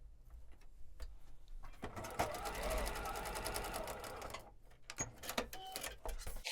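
A sewing machine stitches a foundation paper pieced quilt block for a witchy-themed pillow, its steady rapid mechanical whir running close and loud through the middle, starting and stopping around it.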